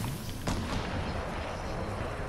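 Gunfire in Fortnite, a sharp shot crack near the start and then continuous rumbling, booming fire in a dense, loud wash.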